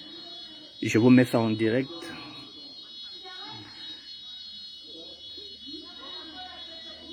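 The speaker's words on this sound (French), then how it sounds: "Voilà, quand il y a l'alarme, tout le monde sort." A building fire alarm sounds as a steady, shrill electronic tone running unbroken underneath, while someone talks loudly over it for a couple of seconds and then quieter voices continue.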